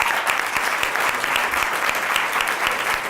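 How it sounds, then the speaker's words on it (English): A conference audience applauds a panel of speakers, producing a full, continuous burst of many hands clapping with a lively, crackling texture throughout. "Let's give our panelists a big round of applause."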